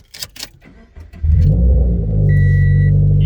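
A Toyota 86 engine cranks and fires up after a few clicks and shuffling, settling into a loud, steady low idle close by with a brief high chime partway through.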